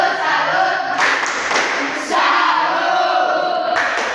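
Students in a classroom perform a 'tepuk salut' clapping routine, rhythmic group claps with shouted chanting voices in bursts, fairly close and lively.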